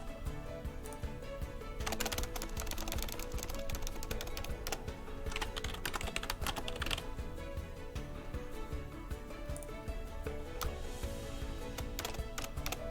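Typing on a computer keyboard, a rapid stream of close, steady key taps that continues for several seconds with short pauses, with no talking.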